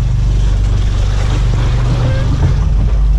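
Heavy sea swell slapping against a fishing boat on a deep-sea trip off the reefs of Sabah, a steady loud low rumble of water and engine with wind noise throughout, no clear talk.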